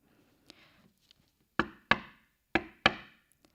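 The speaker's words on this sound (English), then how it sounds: "So he knocked on the door" Knocking on a wooden door, a light tap first, then two pairs of loud, crisp, close knocks with short echoing decays, no talking over them.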